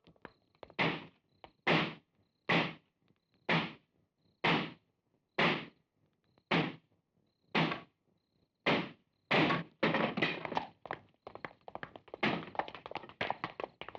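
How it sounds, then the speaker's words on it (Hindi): Heavy thuds strike a door about once a second, nine solid blows in steady rhythm, followed by a flurry of rapid banging and cracking. "दरवाजा तोड़ो।"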